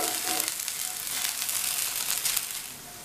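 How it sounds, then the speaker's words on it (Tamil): Okra is stir-fried until crispy for vendakkai thayir pachadi, a dense, bright hiss of sizzling oil filling the short stretch and easing off slightly at the end. "மெதுவாக இந்த மாதிரி பெரட்டி பெரட்டி விட்டு மொறு மொறுன்னு வறுத்துக்கணும்"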